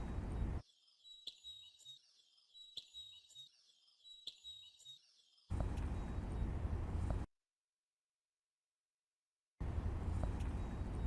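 Birdsong removed from a recording by a bird-noise removal tool: a few thin, isolated bird chirps repeat about three times over near-silence, then give way to bursts of dense broadband noise with a gap between them.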